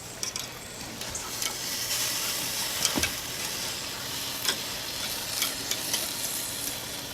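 Italian chicken pieces crackle and sizzle on a grill in a steady hiss, with occasional sharp clicks and taps as they are moved.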